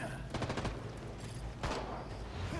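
Gunfire bursts in Gotham Knights, a rapid rattling volley early on and a second burst later, over a steady game background with players talking.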